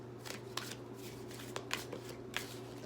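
Tarot cards being shuffled in a close, soft, continuous riffle with a few sharper slaps, alone with no voice.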